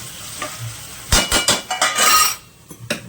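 A metal lid set on a cooking pot of chillies being sautéed: after a soft sizzle, a burst of loud, close clanks and scraping rattles, then a couple of lighter taps, with no talking.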